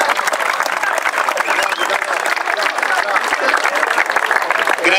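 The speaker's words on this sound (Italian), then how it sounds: "un applauso al mister Aronica" A crowd applauding football coach Francesco Aronica at a Juniors team event in Palermo, dense continuous clapping at an even level for several seconds.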